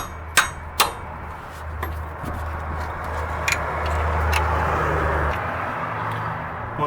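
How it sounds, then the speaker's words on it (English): A hammer strikes an open-end wrench to break bolts loose during a Honda Accord drum-to-disc brake conversion, giving two sharp metallic clangs and a few lighter taps over a low garage hum, with no talking. "I just use an open end and a hammer to break the rest of them loose."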